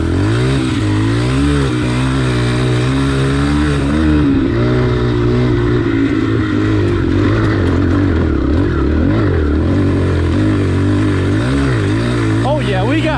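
A pit bike climbing a hill near a small airfield, its small engine droning and revving loudly and steadily from close by, with other bikes' engines mixed in throughout.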